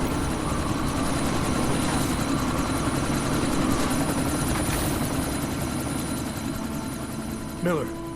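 A helicopter in the video game Deus Ex: Mankind Divided, set in a Dubai sandstorm, gives off a steady, continuous rotor and engine drone, with a brief voice near the end.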